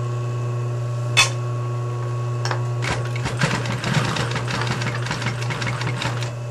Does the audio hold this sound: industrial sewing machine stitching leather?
yes